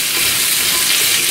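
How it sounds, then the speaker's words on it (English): Onion rings being stirred in hot frying oil, a dense, steady loud sizzle with bubbling crackle close up, no voices. "So again, you're just stirring it."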